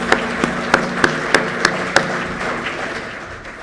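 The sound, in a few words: applause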